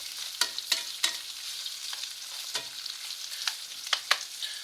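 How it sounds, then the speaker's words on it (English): Vegetables sizzle and crackle as they stir-fry in a hot pan, with sharp scraping stirs of a utensil every second or so, close and without voices. "So those are stir frying up"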